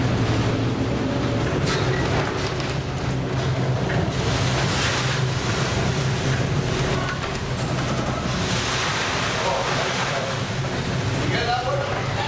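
A rescue ship pitching through massive ocean waves, with heavy wave roar, wind buffeting the microphone and a low engine drone throughout, under a narrating voice.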